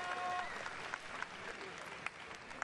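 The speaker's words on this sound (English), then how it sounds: "Big round of applause for the voice actors on the stage." A large convention crowd at BlizzCon 2010 gives sustained applause for voice actors on stage, with dense clapping that fades somewhat over a couple of seconds and a few louder claps poking through.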